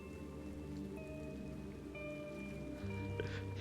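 Steady rain falls in the Cassette Beasts video game, a soft, even wash with a few faint drips and low ambient tones, quiet and continuous.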